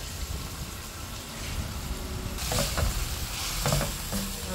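Pancit noodles with pork and tomato being stirred in a hot pan, a steady sizzle with scraping utensil strokes that grow busier and louder in the second half.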